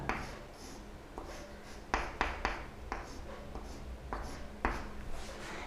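Chalk or marker strokes on a board as an organic chemistry compound is written out, a run of short scratchy taps and scrapes with a few sharper knocks, close and moderately loud with no talking.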